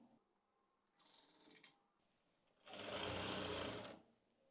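A sewing machine stitches velvet fabric for a flapper pant in close, quiet bursts: a brief run first, then a steadier, louder whirring stretch of about a second and a half, with no talking.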